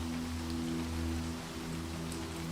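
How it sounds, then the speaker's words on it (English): Steady rain pelts down on topiary and grass outside a manor on a stormy night, an even close wash of drops with a low rumbling drone beneath and no talking. "watching as the rain pelts the topiary and the grass yields to the wind"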